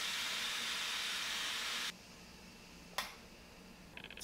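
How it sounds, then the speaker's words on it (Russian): Steam hisses loudly and steadily from the pressure valve of an electric multicooker cooking beef stew, then abruptly stops, leaving a quiet background with a sharp click and a few faint ticks. "Сейчас пар выйдет, и мы откроем."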